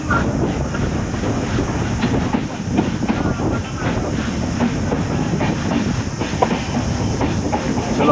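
A crowded Ratnagiri–Diva passenger train runs along the line, its rumble and rhythmic clickety-clack of wheels on rail joints loud and steady throughout, with faint wind buffeting the microphone.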